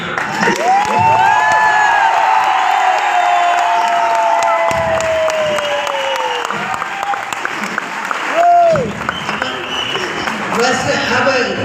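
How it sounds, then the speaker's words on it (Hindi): Loud applause and cheering from an audience at a ceremony, dense clapping mixed with whoops and shouts, with voices talking and calling out over it throughout. "मेरे मामा पीछे बैठ के तालियां बजा रही है"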